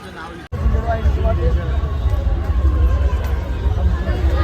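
Busy street crowd at a Dahi Handi fair in Thane, a loud continuous hubbub of many voices and movement close around, with a low rumble underneath after a brief dropout at the start.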